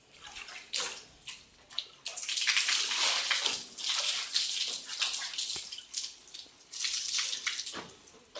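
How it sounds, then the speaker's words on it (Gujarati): Water is sprinkled on a floor in repeated hissing bursts, close and fairly loud, with short pauses between the spraying spells. "હવે અહીંયા થોડુંક પાણી છાંટવાનું છે"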